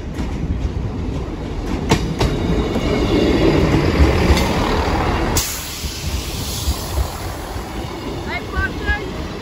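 Train passing a level crossing at Sleaford East, with a loud rumbling, clattering roll of wheels over the rails that eases off near the end, plus occasional squeals and some faint background talk.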